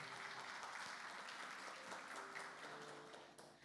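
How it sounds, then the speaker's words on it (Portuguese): Applause from a Catholic leaders' gathering congregation, a steady wash of clapping that is fairly quiet and distant, holding evenly before tapering off near the end. "aplaudir bem forte o nome de Jesus nessa manhã"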